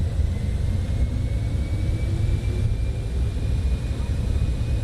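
Cessna Citation X business jet engines spooling at takeoff thrust in Microsoft Flight Simulator, a steady loud low roar with a faint rising whine and a voice talking over it.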